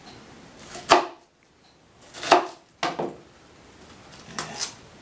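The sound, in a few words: knife cutting the core out of a cabbage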